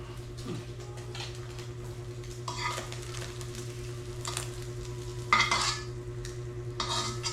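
An egg frying in a pan with cooked rice, a soft steady sizzle close by, broken by a few scraping stirs and clinks of a utensil against the pan.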